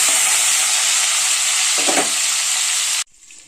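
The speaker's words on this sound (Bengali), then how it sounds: "আমি 2টো বড় বড় উচ্ছে আমি কেটে রেখেছিলাম, উচ্ছেটাও দিয়ে দিলাম।" Bitter gourd pieces fry in hot oil in a pan with a loud, dense sizzle that holds steady for about three seconds and then cuts off sharply, leaving a faint hiss.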